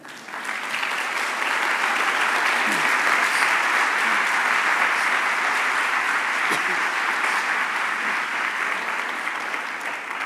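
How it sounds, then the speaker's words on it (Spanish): Sustained applause from a church congregation, steady and fairly loud throughout, dense clapping with no pauses and no voices standing out. "Si usted cree que Dios es fiel, ofrézcale un aplauso al Señor."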